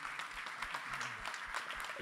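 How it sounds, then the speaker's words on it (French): A gala crowd at a supply chain awards ceremony claps together in a dense, steady patter of applause, moderately loud and continuous, with no clear speech over it. "je pense que on peut tous s'applaudir"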